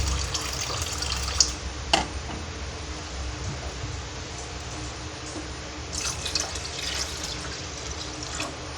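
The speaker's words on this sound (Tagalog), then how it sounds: "Dagdagan lang natin siya ng konti pang tubig." Water poured from a tap into a cooking pot while preparing sinigang na bangus sa bayabas, a steady close trickle and splash with a few sharper drips, no talking.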